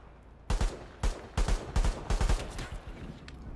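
Sniper and rifle gunfire in the online shooter World War 3, a series of sharp cracking shots in uneven bursts, some single and some paired, loud and close over a quiet backdrop.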